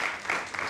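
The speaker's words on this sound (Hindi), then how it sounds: "तो पहली लाइन पे ताली दे दो यार।" A brief burst of audience clapping during a Hindi political satire and poetry show, dense and even for less than a second with no voices on top.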